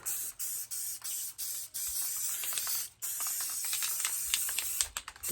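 Aerosol spray paint hissing in a series of bursts, short sprays broken by brief pauses, close by with no talking.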